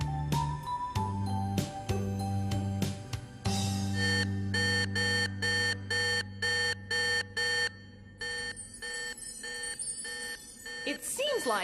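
A ringing alarm-clock tone repeats in an even series of electronic beeps, preceded by a few chiming notes.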